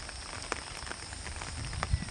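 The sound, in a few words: heavy rain falling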